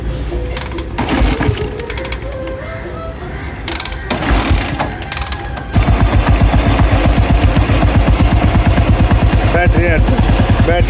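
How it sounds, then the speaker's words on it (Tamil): A Royal Enfield Bullet with a CDI setup and its battery removed cranks noisily, then fires and settles into a loud, steady, evenly thumping idle close by. "பேட்டரியே இல்லாத இடத்துல வண்டி ஸ்டார்ட் ஆகி வரணும்"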